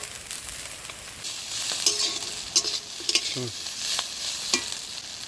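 Small mola fish fry in a pan with a loud, continuous sizzle, broken by several sharp clinks and scrapes of stirring and a brief squeak near the middle.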